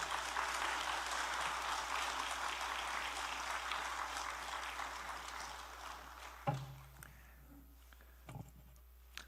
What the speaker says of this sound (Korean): 우리 주 안에서 따뜻한 박수, 축복의 박수로 맞이했으면 합니다